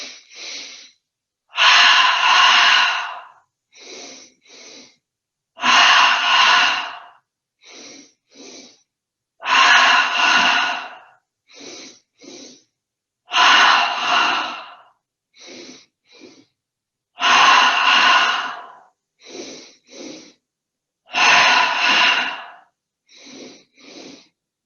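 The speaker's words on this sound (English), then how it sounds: "10 double breaths, breathing in through the nose twice." Paired sharp nasal inhalations from a seated yoga breathing exercise, each double sniff followed by a longer exhale, repeating steadily about ten times, close and clear with no talking.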